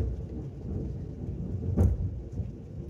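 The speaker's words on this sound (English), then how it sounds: "And the thunder rolls." Rolling thunder during a rainstorm: a deep rumble swells to a sharp crack near the middle, then fades back into the steady hiss of falling rain.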